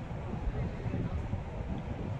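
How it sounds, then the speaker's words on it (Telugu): Strong wind blowing in a park, a constant dense roar of gusts buffeting the microphone throughout the short stretch, with no clear speech. "గాలి కానీ ఈరోజు చాలా బలంగా ఉన్నది."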